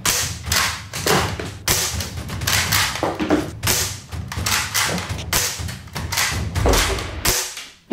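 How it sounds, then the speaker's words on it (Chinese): Five rapid gunshots strike a riot shield, each landing as a sharp, loud thud with a hard impact crack, evenly spaced in quick succession and heard alone without talk. "这个开枪打在上面的声音听起来真的是"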